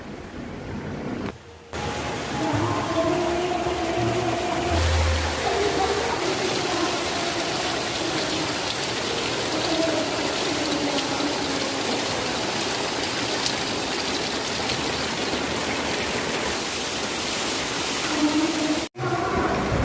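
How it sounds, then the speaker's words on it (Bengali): Heavy rain pours down in a dense, constant roar, steady and close for the whole stretch with barely a break, flooding a courtyard in a Sundarban village. "অনেক জোরে বৃষ্টিটা হচ্ছে জল জমে গেছে"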